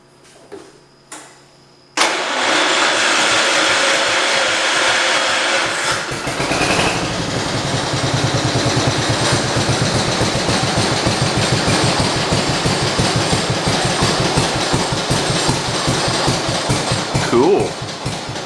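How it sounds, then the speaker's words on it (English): A 1968 engine cranks over after a few faint clicks, catches and keeps running at a loud, steady, rapid idle that pulses evenly for over fifteen seconds. "we'll try cranking it over again so it can get some gas into itself"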